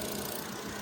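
A car engine idles quietly and steadily after repair of an engine fault, a soft, even low hum with no other sounds.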